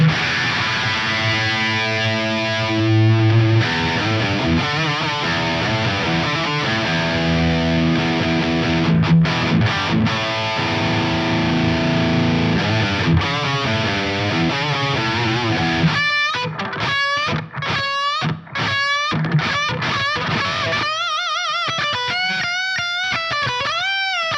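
Guitar run through a Source Audio Multiwave multiband distortion pedal, sustained buzzy chords followed by choppy, gated stabs and sweeping notes, loud with no talking.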